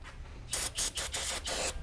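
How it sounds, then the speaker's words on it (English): Brake cleaner sprays from an aerosol can over a freshly installed oil filter on a 2021 Subaru WRX, four or five close hissing bursts separated by short pauses. "Get your brake cleaner, spray it down"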